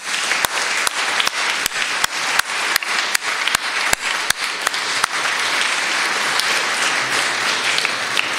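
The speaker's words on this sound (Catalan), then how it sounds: "demanaria un fort aplaudiment" An audience at a Sant Jordi choral event applauds the choir. Sharp, evenly spaced hand claps ring out over continuous crowd clapping, then fade into a steady wash of applause toward the end.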